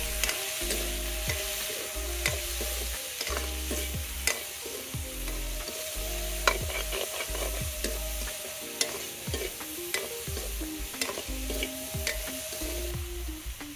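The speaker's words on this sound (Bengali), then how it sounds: "আর একটু হলুদ দিয়ে কলাটাকে কষিয়ে নিচ্ছি।" Plantain sizzles in oil with turmeric while a spatula stirs and scrapes steadily, a continuous close frying hiss marked by repeated rhythmic scraping strokes, with a low hum throughout and no speech.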